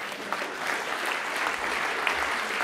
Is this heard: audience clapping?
yes